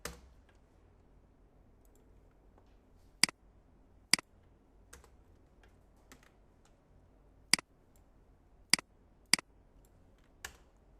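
Isolated clicks from a computer keyboard as someone types a search query, sparse and irregular single keystrokes spaced over several seconds, close and fairly crisp against a quiet room.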